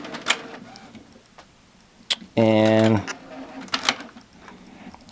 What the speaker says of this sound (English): I'm going to put the disc in. Again, that's the Artisan 710 printer.